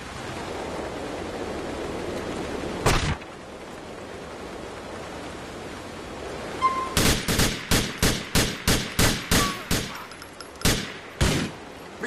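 Gunfire in Grand Theft Auto IV: one sharp shot early, then a quick run of about ten loud, evenly spaced shots, followed by two more, over a steady noisy background.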